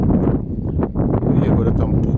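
Wind blows at the Foz Côa rock art site in Portugal, a loud rumbling buffet across the microphone that persists throughout the short span, with a person talking over it.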